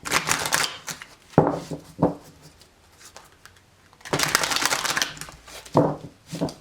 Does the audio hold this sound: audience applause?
no